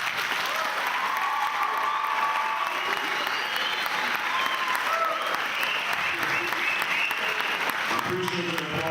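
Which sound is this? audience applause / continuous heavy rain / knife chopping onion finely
audience applause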